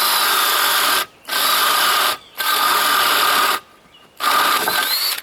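A Bosch drill with a cheap spade bit bores into wood in four loud, close bursts, each about a second long, separated by short pauses where the motor stops.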